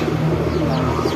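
A newly bought pigeon coos up close, a loud, low, throaty burble that fills the brief moment before a test flight.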